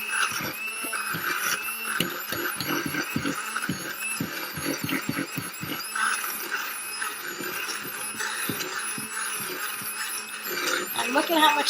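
Electric mixer churning thick waffle batter in a bowl, a steady strained motor whir with uneven grinding pulses throughout, heard close alongside a person talking.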